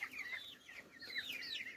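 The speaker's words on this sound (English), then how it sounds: "These here are 4 weeks old chickens." Four-week-old farm chickens clucking and chirping, several overlapping soft calls in quick irregular bursts, close by with no talk.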